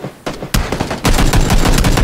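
Video game gunfire crackles in a rapid string of loud, close shots that start sparse and then build into a dense, continuous burst of automatic fire.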